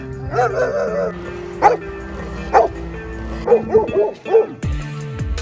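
A dog in the Albanian mountains near Borsh barks close by in a series of sharp woofs and yips, spaced irregularly with short pauses and a whimpering edge.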